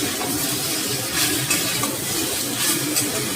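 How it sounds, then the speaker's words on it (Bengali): Thinly sliced vegetable frying in a little oil gives a steady, close sizzle with faint stirring scrapes, holding evenly throughout. "আমি এটাকে একটু ভেজে নেব।"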